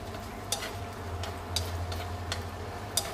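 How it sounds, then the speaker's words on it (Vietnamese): Oysters stir-fried with seasoning in a pan give a steady low sizzle, with light scrapes of a utensil at intervals; no voices. "Cái này thì mình xào cho nó thấm gia vị tí thôi"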